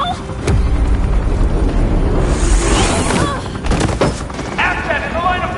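Police gunfire in a Batman video game, dense bursts of shots and booms filling the whole stretch loudly, with game voices shouting over the shooting.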